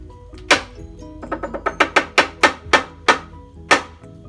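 A run of sharp wooden knocks from a wayang cempala in an uneven rhythm, some clustered in quick bursts and others spaced apart, with strokes of varying loudness.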